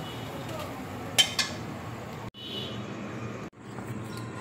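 Plates and serving utensils clink as fried veg eggs, cooked in mustard oil, are lifted onto a plate: two or three sharp metallic clinks near the mic over a steady low kitchen background.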